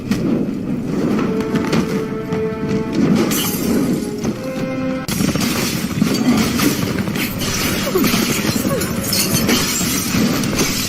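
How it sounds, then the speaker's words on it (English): Objects hurled against walls and glass during a riot at a police precinct, repeated shattering and crashing bursts amid chaotic crowd noise and distant shouting. "you're hearing people throwing things against the walls, against the glass"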